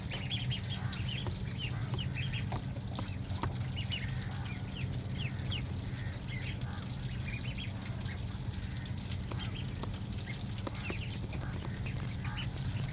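Young meat ducklings quacking and peeping continuously in a group at moderate distance, many small overlapping calls over a steady low background hum.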